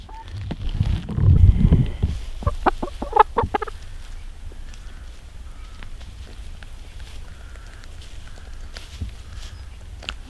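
Backyard chickens cluck and squawk close by, a cluster of sharp, rapid calls after a brief low rustle, then softer scattered clucks continuing quietly in the background.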